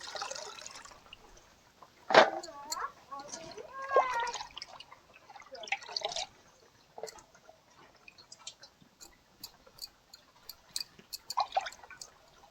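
Malabar spinach and lentils are being washed in water, with soft drips, splashes and trickles that come and go at low volume. Occasional faint sharper clicks and handling noises rise above the water.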